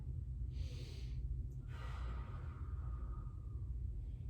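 A person draws a deep breath during cool-down stretching, then releases it in a longer, airy exhale, close and soft over a low steady background hum, with no talking.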